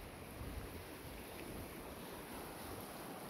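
Continuous broadband rush of river water flowing after a flood that swept away a bridge, steady and fairly loud, mixed with wind buffeting the microphone.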